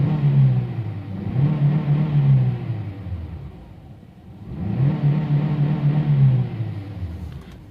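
Honda Insight engine, just repaired after a misfire fault, revs twice in long rising pulls, each climb falling back to idle between, loud and close.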